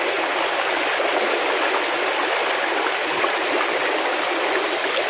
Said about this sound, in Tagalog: Maririnig nyo lang po yung agos ng tubig